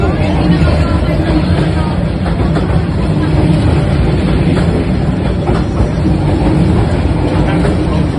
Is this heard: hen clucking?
no